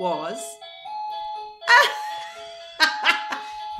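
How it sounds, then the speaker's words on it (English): A sustained electronic chime tone rings under speech, with voices talking over it in short bursts close by. "like this doorbell"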